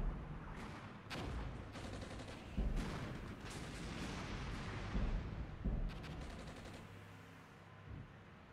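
Artillery fire landing in the Armored Brigade combat game, with distant booming impacts and crackling bursts scattered across the scene over a continuous rumbling battle background.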